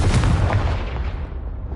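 A Confringo fire spell explodes in the Hogwarts Legacy video game, a loud booming blast that rolls into a dense rumbling decay across nearly two seconds, with no voices over it.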